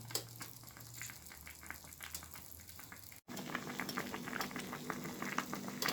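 Plantains boiling in a pot of water, a continuous bubbling and gurgling heard up close with no voices, briefly cut by a split-second gap before the rolling boil resumes slightly louder.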